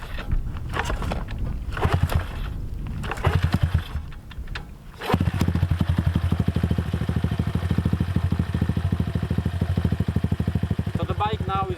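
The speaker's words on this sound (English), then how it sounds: "So the bike now is running on the choke on." A Storm Cross 110cc semi-auto pit bike is kicked over with a few sputtering attempts, then catches and settles into a steady, close, rapid idle with the choke on. A voice speaks over the early kicks.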